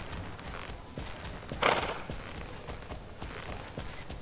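Quiet, steady clip-clop of horse hooves at a walking rhythm in the video game Star Stable, with a soft rustling burst partway through.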